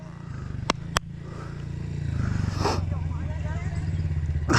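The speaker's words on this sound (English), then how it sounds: "Stand up, push the bike forward with your feet. Stand up over it, crack the throttle, push it." A dirt bike engine revs up steadily as the rider cracks the throttle on a sandy motorcycle trail, a near and rising drone after two sharp clicks, with a voice talking over it.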